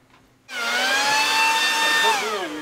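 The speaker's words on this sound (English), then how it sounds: "This is a leaf blower, not a vacuum." A leaf blower runs indoors in a library, starting abruptly and holding a loud, steady high-pitched motor whine with faint pitch drift, alone without speech.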